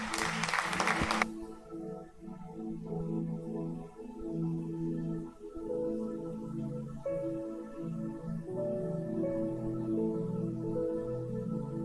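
A church congregation at a youth service claps in a short, loud burst lasting about a second. Sustained music with held tones follows.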